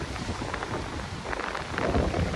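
Light drizzle falls on the dolomite sand beach at Manila Bay, a soft steady hiss of rain with faint wind, quiet and continuous.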